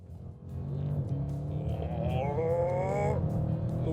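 An Audi RS7 with an automatic gearbox accelerates hard, its engine note climbing steadily in pitch with a gear change partway through, then pulling up again, loud and close with no talking.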